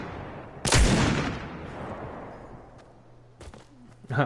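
A giant revolver in the Fortnite video game fires one loud booming shot that rings out and decays, followed by a sharper second report and a faint click, with someone speaking briefly.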